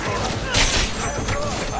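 Gunfire volley in the video game Cyberpunk 2077, a loud dense burst of overlapping shots and booms, with a voice barking orders through it.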